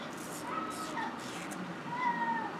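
A cat meows several times, thin drawn-out calls that are moderately close but quiet, in a room over faint background noise.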